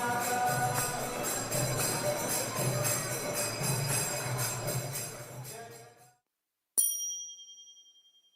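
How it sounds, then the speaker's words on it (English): Brass cymbals hit together, a dense shimmering metallic wash ringing for several seconds and fading out, then after a brief silence one bright single strike rings and decays alone. "Turkish folk musicians also play the cymbals."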